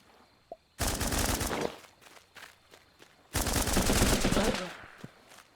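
Two long bursts of rapid rifle fire in the video game Running With Rifles, each lasting about a second, loud and close, separated by a quieter gap with a few single shots.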